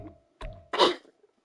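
A single sharp sneeze from a child, close and loud, with a short breathy intake before the burst and then quiet.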